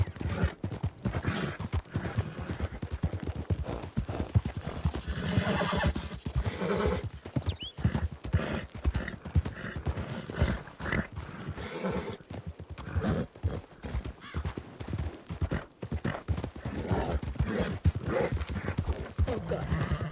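A horse's hooves clip-clop steadily and a whinny rises briefly partway through, in a Western radio drama about a deputy marshal; the hoofbeats stay fairly close and continuous throughout.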